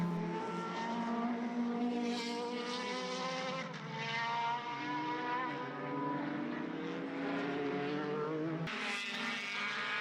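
Formula BOSS race cars bunched together on a circuit in Ireland, a sustained, loud, rising and falling high-revving engine roar from several cars passing close, with a sharp change as one car goes by near the end.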